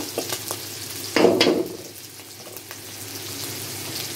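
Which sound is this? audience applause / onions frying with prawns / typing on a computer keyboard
onions frying with prawns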